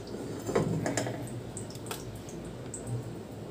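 Halved jackfruit seeds land in water in a pressure cooker, giving a few soft knocks, light splashes and drips close by, fairly quiet with no talk.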